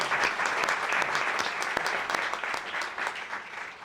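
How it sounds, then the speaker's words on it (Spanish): Audience applause at a gastronomy and culture panel discussion, steady dense clapping from a crowd, loud and continuous for the full few seconds, slightly tapering toward the end. "os pido un aplauso"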